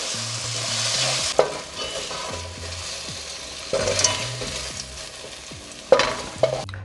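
Potatoes fry in a Bodine pot for a spicy curry mutton, a continuous sizzle broken by repeated clattering scrapes and knocks of a utensil stirring against the pot.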